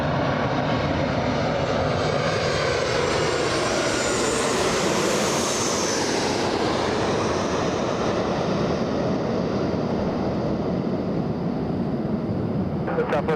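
Southwest jet landing at LAX from Las Vegas: a loud, close engine roar that swells and shifts pitch as it passes, sustained throughout with a brief rattle near the end.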